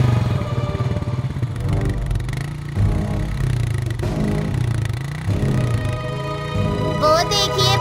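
A motorcycle engine runs with a steady, rumbling idle and a few revs, loud and close, mixed with clatter and voices in a comic outdoor scene.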